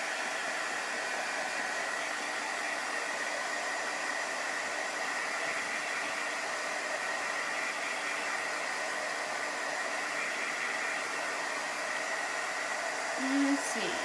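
A hair dryer blows steadily to dry a freshly pasted picture frame, a constant loud whooshing hiss that runs unbroken the whole time with a brief low thump near the end.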